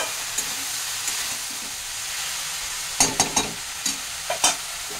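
Aar fish head and gourd pieces being stirred in a pan with salt and turmeric, with a soft steady sizzle and a burst of several sharp scraping clacks of the spoon near the end.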